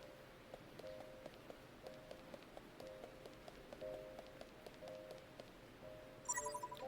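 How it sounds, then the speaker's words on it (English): Rain falling on a morning, steady faint patter with scattered drops, quiet and distant, plus a brief brighter tone near the end. "It's raining today."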